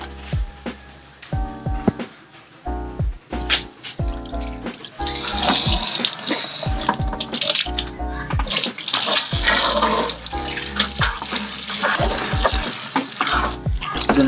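Tap water runs into a basin holding dish soap, a steady rushing pour broken by splashes, clatter and the knock of handled dishes, fairly close and loud with no talk over it.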